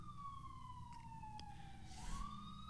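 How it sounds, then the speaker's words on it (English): A fire truck and an ambulance pass at a distance, their sirens wailing and sliding downward in pitch, faint beneath a low steady background rumble. "Fire truck and an ambulance."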